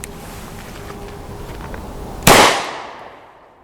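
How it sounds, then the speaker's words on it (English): A single sharp gunshot from a 22 TCM round fired out of a 1911 pistol with a 5-inch barrel, a loud crack followed by a decaying outdoor echo after a quiet lead-in. "22 TCM out of our 5-inch barrel 1911"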